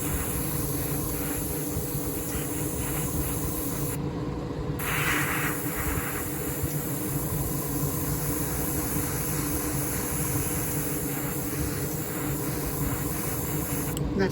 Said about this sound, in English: you spray it so it looks a little wet as it goes on.